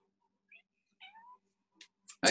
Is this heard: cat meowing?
yes